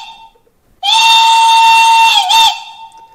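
A gauge 1, 1:32 scale KM1 model of a Prussian T3 class 89.74 steam locomotive sounds one shrill whistle blast, about two seconds long, dipping briefly near the end before cutting off.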